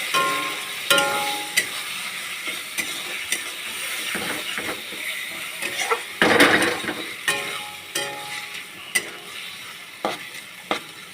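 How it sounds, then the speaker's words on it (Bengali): Tomato frying in a pan with a ginger, garlic and chilli paste: a soft continuous sizzle broken by repeated scraping stirs and occasional clinks of a spoon against the pan, close and moderately quiet. "টমেটো দিয়ে ফ্রাই করছি"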